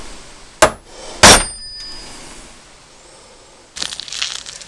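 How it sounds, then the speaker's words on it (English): An old socket hammered to drive out a drive shaft U-joint, two sharp metallic strikes in quick succession, then a rougher clattering burst a few seconds later. "put the old socket up top, and just drive it down through"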